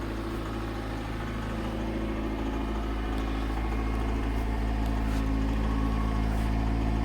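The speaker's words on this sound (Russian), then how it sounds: "Ну, мотор как балалайка сейчас." A car engine idles steadily after a decarbonizing flush with dimexide, a low, even rumble with faint mechanical ticking running unbroken and close throughout, no voices over it.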